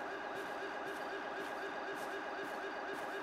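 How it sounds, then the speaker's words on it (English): An ambulance siren from the video game GTA 5 wails in a steady, repeating electronic rise and fall. It sounds moderately distant and continues alone. "Ambulance."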